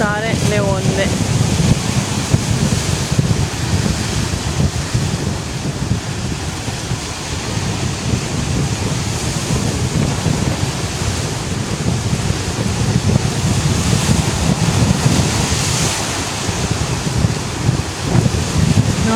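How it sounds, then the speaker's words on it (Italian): Ocean waves surge against a rocky shore near Hana, Hawaii, a continuous loud roar of surf and wind without clear breaks, with people talking faintly underneath. "Notare le onde."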